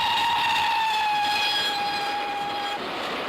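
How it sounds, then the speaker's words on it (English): The Flying Scotsman steam locomotive pulls out of a station platform on its 2016 inaugural run, sounding a long, loud whistle for nearly three seconds before it cuts off over a low rail rumble. "Majestically, the beautiful engine eased out of platform 10."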